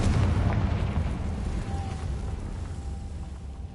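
The Confringo explosive spell in Hogwarts Legacy bursts as a deep, booming blast that rolls and slowly fades over a few seconds. It is loud and close, with no speech.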